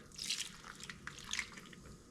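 Liquid is measured out and poured while cooking at home, with some of it spilling: soft splashing and dripping, close but faint, with no talking.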